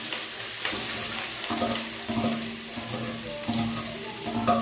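Finely chopped onions and green chillies sizzle and hiss in a pan, with soft scraping and clinking from stirring, moderately close.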